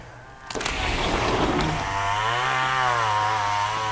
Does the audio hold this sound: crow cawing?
no